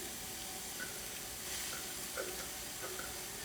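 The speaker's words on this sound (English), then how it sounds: "Oh yeah, that's sizzling." Riced cauliflower sizzling in a hot pan, giving a soft, steady frying hiss with faint crackles, quiet and close, with no voices.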